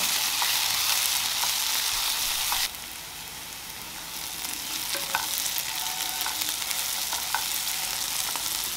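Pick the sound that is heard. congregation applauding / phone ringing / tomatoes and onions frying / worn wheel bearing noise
tomatoes and onions frying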